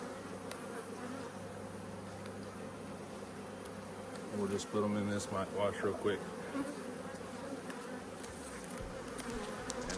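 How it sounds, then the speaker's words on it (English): Honey bees buzzing steadily around an open hive during a check and mite wash sampling, a dense continuous hum throughout, with a person speaking briefly over it midway. "The foragers will take off and the nurse bees will be left behind."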